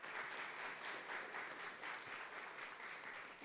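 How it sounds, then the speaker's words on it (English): A church congregation applauds veterans at a Veterans Day service, steady sustained clapping heard at a distance and fairly faint throughout. "Let's give them a round of applause."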